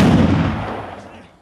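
A burst of gunfire during a large-scale military shooting exercise for Ukrainian troops under British instructors, a loud close crack fading into a rolling echo over about a second and a half, no talk.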